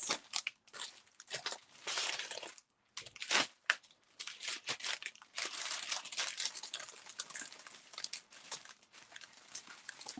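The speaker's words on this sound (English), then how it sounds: "then we're going to fold in" Sheet of paper folded and creased by hand into a Christmas tree shape, giving close, dry crinkling and crunching rustles in uneven bursts with brief pauses, no voices.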